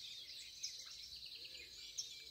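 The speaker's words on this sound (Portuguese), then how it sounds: "Estou aqui escutando a sinfonia de pássaros." Birds singing at dawn on a country property, a faint, continuous chorus of high chirps and trills with a couple of sharper calls, heard from a distance with no voices.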